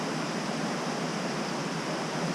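A waterfall on a trout stream pours in a constant, loud, even rush of water with no other sounds, close and unbroken throughout.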